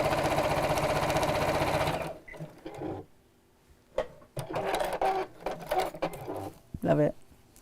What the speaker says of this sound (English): lots of sewing in straight lines.